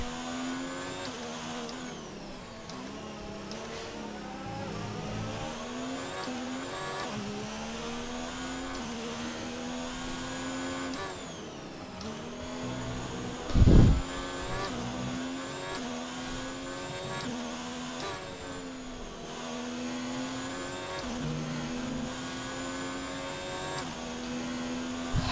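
An F1 car engine in the F1 2019 racing game, the car running with a damaged ICE, low on power and missing fourth gear. It gives a continuous high whine that rises and falls through gear changes, with one brief loud burst midway.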